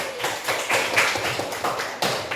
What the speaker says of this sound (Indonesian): berikan tepuk tangan yang meriah untuk kelompok 2